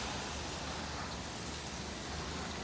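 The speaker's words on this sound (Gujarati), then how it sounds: "છાંટા જ પડે છે." Steady soft patter of light rain falling, continuous and even with no voices.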